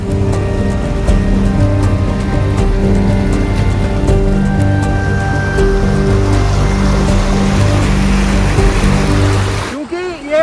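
Heavy rain pours steadily at the Ganga ghats in Haridwar, a loud, dense wash of water noise with a constant low rumble, ending in a brief disturbance.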